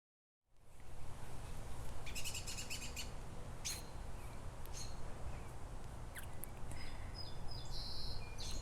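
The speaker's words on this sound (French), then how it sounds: "Les petits oiseaux, c'est pas long." Small birds sing outdoors, bright repeated chirps and short trills scattered over a steady background hiss, moderately faint and at a distance, with no voices.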